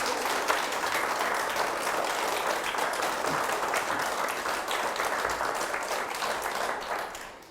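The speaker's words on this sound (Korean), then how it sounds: "여러분 정조한테 박수 한번 주세요" A lecture audience applauds steadily for several seconds, a dense wash of many hands clapping that holds even, then tapers off at the very end.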